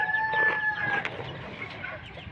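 Australorp and desi hens sunning themselves in a coop give a brief burst of clucking and calling, moderately close over a low, quiet background.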